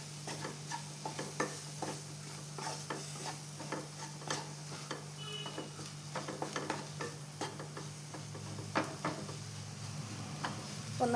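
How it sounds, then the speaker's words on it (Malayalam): Corn masala with coriander powder being stirred in a pan, a quiet low sizzle under repeated light clinks and scrapes of a spoon against the pan in an irregular rhythm. "കുറച്ച് മല്ലിപ്പൊടി. അപ്പം നമുക്കെല്ലാം ഒന്ന് ഇളക്കി അടച്ചു കൊടുക്കാം."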